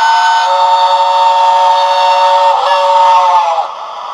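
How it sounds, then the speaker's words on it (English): A steam locomotive whistle from a Hornby LNER P2 2-8-2 model's TTS sound decoder, a steady loud multi-tone blast that bends downward in pitch near the end and drops away as if the engine rushes past into the distance. "So number 5 is whistle passing."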